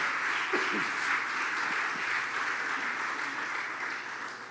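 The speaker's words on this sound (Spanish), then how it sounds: "Dale un aplauso más fuerte al Rey de Reyes." A church congregation applauds, a broad, even wash of clapping heard at a moderate distance that holds steady and then slowly fades. A faint voice sounds briefly near the start.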